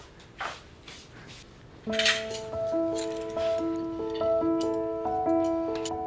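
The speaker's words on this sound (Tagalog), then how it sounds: "Kuha lang po ako plato." Plates and cutlery taken and handled indoors, a few soft clinks and rustles, then a clear ringing clink followed by sustained bright tones that hum on under the handling.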